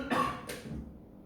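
Two sharp coughs from a man during a transportation engineering lecture, a harsh burst followed half a second later by a second, weaker one. Both sound close and fairly loud, with no talking.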